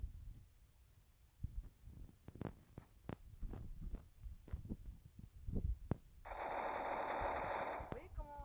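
Rapid bursts of gunfire in the mobile battle game Free Fire, a series of sharp close shots spread over several seconds, followed by a steady loud electronic tone near the end.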